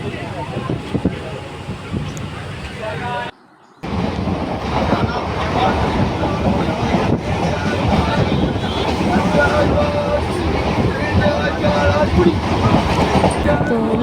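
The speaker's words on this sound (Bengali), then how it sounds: "আমরা এগারোটা আটের ট্রেনে উঠেছি" Local train running toward Namkhana, a steady loud rumble of moving rail carriages throughout with a brief drop-out near the start, and people talking faintly under the noise.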